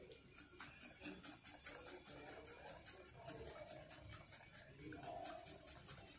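Fresh ginger being grated for clay-pot chai, a quiet, rapid rhythmic scraping that repeats steadily throughout at close range, with no talk.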